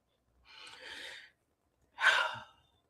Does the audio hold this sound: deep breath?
yes